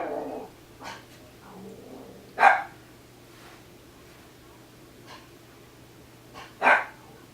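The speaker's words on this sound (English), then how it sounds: "If you hear panting, it's just my dog." A dog indoors gives two sharp, distinct barks a few seconds apart, with softer yips and faint sounds between them over a quiet room hum.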